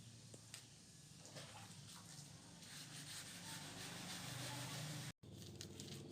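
Steady rough rubbing of sandpaper on the body of a 1984 Daihatsu Hijet 1000, a continuous abrasive scratching with broadband hiss, close and fairly loud, with a brief dropout near the end.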